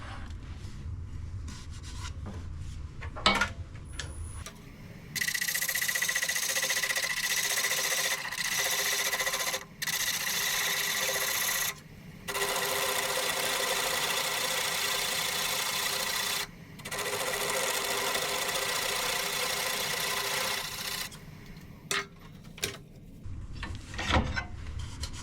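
Sandpaper rubbing against a freshly turned wooden bowl spinning on a lathe, a steady loud abrasive hiss that runs in long stretches broken by a few short pauses, with quieter handling noises at the start and end.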